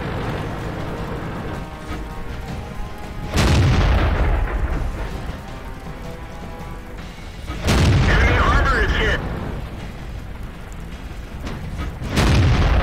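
KV-1 heavy tank cannon fire in World of Tanks, three heavy booms spaced several seconds apart, each loud and close with a rumbling tail, over steady battle ambience and some talk.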